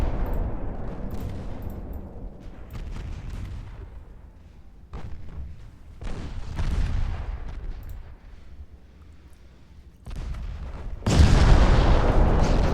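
Secondary guns on a battleship fire in Ultimate Admiral Dreadnoughts, a naval warfare video game, giving a steady run of booming, rumbling shots in several bursts, with a louder, denser blast toward the end.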